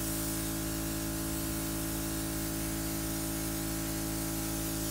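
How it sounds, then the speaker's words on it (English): A Luminess airbrush sprays tinted moisturizer in a steady, close, unbroken hiss with a faint motor hum beneath, and no voices. "I'm going to turn my airbrush on."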